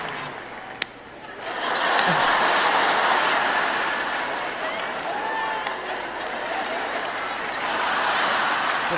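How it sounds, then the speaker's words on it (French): Audience applause at a Christian sermon swells after a brief pause into a dense, sustained wash of clapping that stays loud and steady to the end, with a few laughs mixed in. "L'applaudissement tarde à venir"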